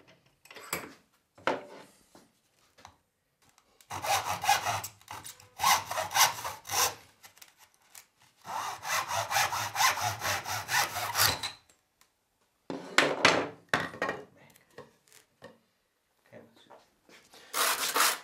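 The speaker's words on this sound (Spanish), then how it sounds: "Vamos a cortar un trozo de caña" A hand saw cuts through a piece of cane for a traditional musical instrument in steady back-and-forth strokes, coming in several bursts separated by short pauses, close and fairly quiet.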